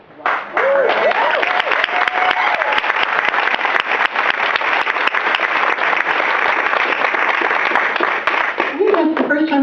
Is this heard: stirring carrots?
no